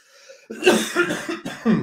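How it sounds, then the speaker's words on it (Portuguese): Several heavy coughs from one person during a talk, starting after a half-second pause and coming in rough bursts, loud and close. "Caramba, tosse hoje está pesada."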